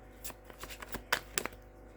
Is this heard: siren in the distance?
no